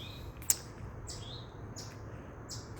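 Faint bird chirps sound outdoors, a few short high calls repeated at intervals over quiet background hiss, with one sharp click early on.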